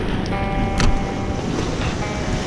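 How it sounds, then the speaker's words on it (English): Wind on a tropical Central American shore buffets and rumbles against the microphone with a constant airy roar, a brief stronger gust near the start, over a wash of water. "Nice breeze has just come up."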